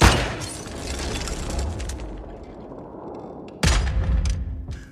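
A gunshot in a film booms in a loud burst, then fades into a rumbling decay before a second sharp, loud impact strikes near the end.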